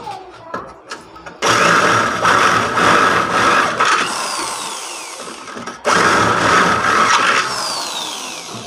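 A power drill bores out a hole in a sliding window frame during fabrication, with a few handling knocks and then two loud sustained whining bursts close by, each winding down.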